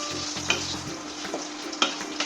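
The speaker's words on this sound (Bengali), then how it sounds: "এইখানে তেলে লঙ্কাটা দিলে একটা আলাদা স্বাদ আছে" Green chili sizzling in hot oil in a pan, a steady crackling fry with a few sharp stirring scrapes and pops, close and loud with no talking.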